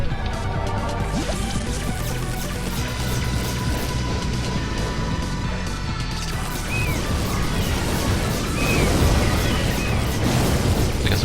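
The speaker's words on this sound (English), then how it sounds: "Decent sized explosions with fire rate." Dense, continuous bursts of booming video game weapon explosions and crashing impacts fire in rapid succession, loud and sustained throughout with no pauses.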